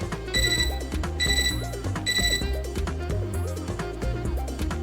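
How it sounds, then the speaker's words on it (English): Repeated electronic beeping from a computer in the video game Fate/Extra, sounding in bright regular bursts over steady looping game music, loud and close. "The computer beeps, which ends the conversation for now."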